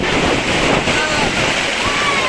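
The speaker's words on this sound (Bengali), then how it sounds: "দেখুন তুফান আর তুফান, এত পরিমাণ তুফান যা বলারও বাহিরে।" Strong storm wind roars at an outdoor cattle market, a loud, continuous rushing buffet against the microphone, with no clear voices.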